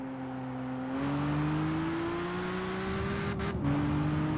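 An Amuse 380RS Super Leggera engine in Gran Turismo 5 holds a steady, loud drone that climbs slowly in pitch as the car accelerates, then dips with a brief shift near the end, with no talking over it.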